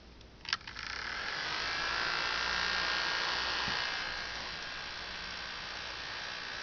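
Several small Snap Circuits toy fan motors switch on with a click and spin steadily, giving a thin, continuous electric whirr and hum close by, with no talking.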